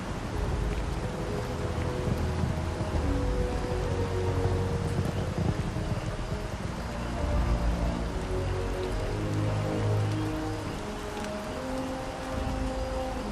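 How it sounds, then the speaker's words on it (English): Rainfall in the video game Starfield, a steady patter of drops on surfaces with a soft wind-like wash, moderately quiet and continuous, swelling slightly in places, with no voices. "The rain sounds nice."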